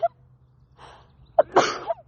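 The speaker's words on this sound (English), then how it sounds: "I have to sneeze" A single close sneeze preceded by a sharp inhale, followed by a short breathy exhale.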